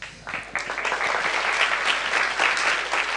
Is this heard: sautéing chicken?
no